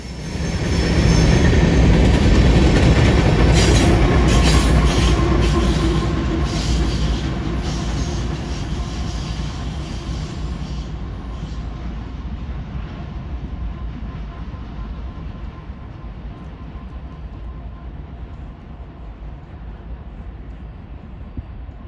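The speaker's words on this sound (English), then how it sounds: "This DPU has another Kansas City Southern locomotive, an AC44CW number 4603." A Kansas City Southern freight train with an AC44CW locomotive passes at Mammoth Spring, Arkansas, with a loud rumble and the clatter of rolling wheels that gradually fade as the train moves away.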